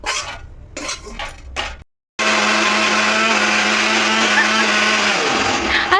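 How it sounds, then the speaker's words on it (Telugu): Kitchen mixer grinder blending cooked ridge gourd peels and tomatoes into chutney: after some clinks and a brief silence, the motor starts with a loud, steady whine and churning roar that runs continuously, shifting slightly in pitch near the end. "ఇప్పుడు ఇందులో మిక్సీ మిక్సీలో వేసుకొని మిక్సీ పట్టేస్తాం"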